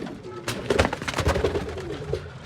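Domestic pigeons kept in a loft coo close by, with soft, throaty, rolling calls repeating over a couple of seconds along with some fluttering noise.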